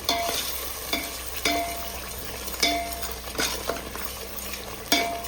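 Turmeric is stirred into Kolhapuri mutton masala frying in a pan: a spoon scrapes and clinks against the metal in repeated strokes about once a second, over a soft steady sizzle, close by and without talk.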